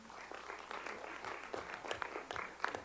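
Audience applause for school staff at a board of education meeting, steady scattered clapping at moderate level with no voices, continuing throughout.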